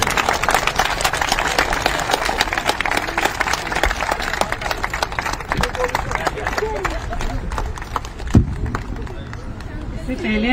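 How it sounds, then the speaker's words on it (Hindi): A hospital event audience breaks into loud, sustained clapping, a dense continuous roar of hands with a murmur of crowd noise underneath. "जोरदार तालियां अपने लिए।"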